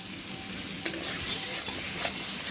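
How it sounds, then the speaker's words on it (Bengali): Spices and chili powder are mixed together in a hot pan, giving a continuous sizzle with a sharp utensil clink near the start and soft stirring scrapes, no talk. "কালারের জন্য সামান্য একটু লঙ্কার গুঁড়ো দিচ্ছি সব কিছু একসঙ্গে মিশিয়ে নিচ্ছি"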